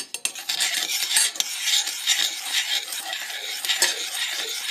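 A palm sugar, lime and soy dressing is stirred in a pan over low heat: continuous close scraping and swishing of a utensil against the pan with a faint sizzle underneath.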